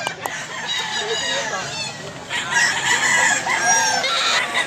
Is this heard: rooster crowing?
yes